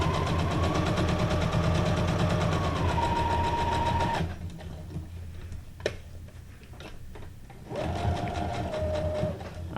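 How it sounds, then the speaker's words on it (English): Sewing machine double stitching junk journal paper tags, a fast steady mechanical whir that stops briefly amid small clicks and handling sounds, then starts stitching again. "I like doing the double stitching because it looks like it makes it look like it's fabric."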